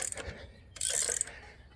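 Ratchet wrench turning bolts on a 1990 Peterbilt 378 engine during a teardown, a few close mechanical clicks and a brief burst of ratcheting, heard alone.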